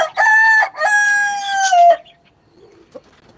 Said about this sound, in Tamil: இந்த சேவல் பிரீட் இது வந்து கைராளி கோழி சேவல் இது